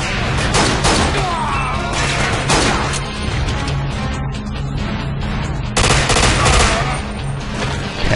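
Continuous heavy gunfire in the video game 007 Quantum of Solace, rapid overlapping shots and crashing impacts that run almost unbroken with a few brief dips, loud and close.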